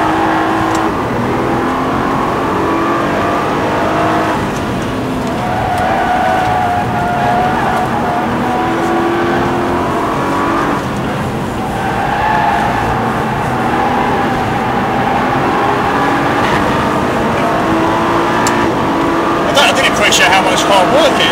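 Nissan GT-R engine drones steadily as the car drives fast around a race track, with shifting pitch through corners, heard from inside the cabin under ongoing conversation.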